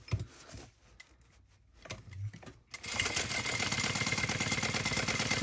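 A sewing machine stitches the sides of a tote bag. A few quiet handling sounds come first, then a steady, fast mechanical whir and rapid needle clatter run loud and close to the end.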